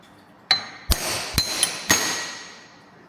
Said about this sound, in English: See if I can find my hammer and we can knock this thing out right now.